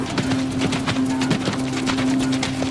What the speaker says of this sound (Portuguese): Estes são cavalos viajantes medievais.